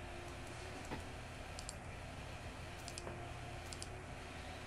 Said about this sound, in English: I heard a lot of clicking.